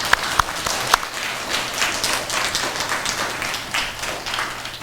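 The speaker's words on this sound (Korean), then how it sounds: "박수를 한번 더 드려서 감사의 말씀을 드리겠습니다" Congregation at a church retreat applauding, a few sharp early claps quickly swelling into full, sustained clapping from many people at moderate volume.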